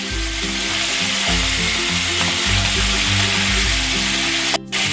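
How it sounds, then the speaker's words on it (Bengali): Chicken meat frying in a pan with a steady loud sizzle and low bubbling crackle throughout, with a brief clatter near the end and no talking. "মাংসটা আমি ভেজে নেব খুব ভালো করে"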